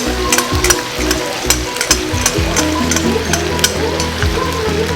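Pork sizzles steadily in hot oil in a pan, with repeated stirring clatter and scraping over a dense, continuous frying hiss; no one talks.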